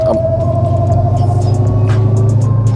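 An American Dodge Challenger with threaded coilover suspension drives along, its engine a deep steady rumble with road and tyre noise, close and continuous with no talk.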